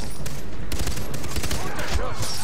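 Gunfire in the video game Far Cry 3 during a co-op mission to defuse bombs at a bridge: dense bursts of shots crack over a steady background, loud and close, with players' voices mixed in.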